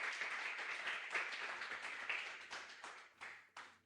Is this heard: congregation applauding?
yes